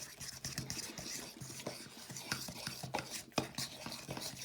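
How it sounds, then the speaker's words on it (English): A fork stirs homemade paint in a container, quiet, close scraping and tapping strokes in an uneven rhythm with no talking. "All right, so I'm stirring it."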